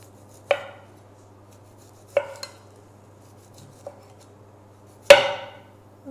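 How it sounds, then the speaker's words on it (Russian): A knife slices boiled smoked sausage into thin rounds on a cutting board, giving four sharp, separate chops spaced a second or two apart, close and fairly quiet, with no talking. "Нарезаем тонкими кружочками такими."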